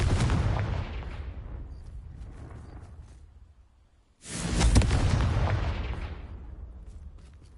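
Two fiery spell explosions from the Confringo curse in Hogwarts Legacy, each a loud booming blast with a long rumbling decay, the second striking sharply after a brief near-silent pause.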